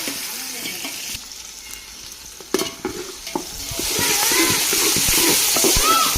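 Tomato, green chilli and onion are stirred and fried in a pan. Scraping taps are sparse at first, then a louder sizzle rises, with speech mixed in over the cooking noise.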